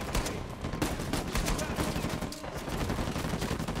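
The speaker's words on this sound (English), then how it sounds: "they got machine guns." Machine gun fire from enemies in the video game Uncharted 4: A Thief's End, rapid repeated bursts running steadily throughout at moderate loudness with game ambience beneath.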